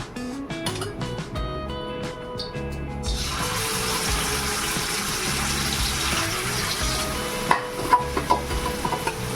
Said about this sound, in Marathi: इकडे तेल पण गरम होत आहे